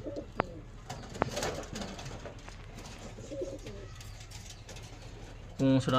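Low, rolling pigeon coos repeat close by beneath faint background bustle, with a couple of sharp clicks and a brief louder burst near the end.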